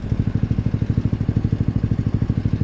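A Honda Grom motorcycle being ridden, its small engine putting out a fast, even, pulsing drone up close, steady throughout with no speech.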